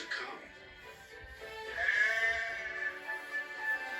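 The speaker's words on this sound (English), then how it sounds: "Some careless sheep had strayed onto the line." Sheep bleating several times near a railway line, a wavering drawn-out cry that is fairly faint and rises in the middle of the sound.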